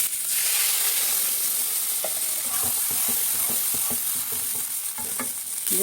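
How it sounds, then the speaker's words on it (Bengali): Water poured into a pan of fried potato, eggplant, radish and flat beans for a thin puti fish curry sets off a loud, continuous sizzling hiss with small bubbling pops throughout. "সবজিগুলো সুন্দর করে ভেজে নিয়েছি এখন জল দিয়ে দিচ্ছি"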